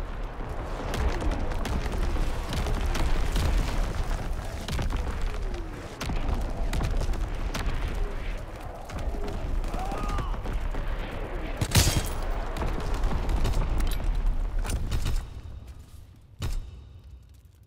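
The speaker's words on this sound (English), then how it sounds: "Firing primary battery." Naval primary battery artillery fires in the Call of Duty WW2 video game, with rumbling booms and dense crackling blasts that roll on continuously, a sharp loud crack near the end before the din fades.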